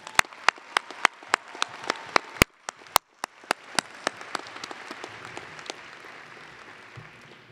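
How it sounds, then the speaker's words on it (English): A commencement audience in an arena applauds graduates' family and friends: sharp, separate claps at first, then a steady wash of many hands clapping that slowly fades, with no talk. "give a round of applause to thank the family and friends who are here to support you"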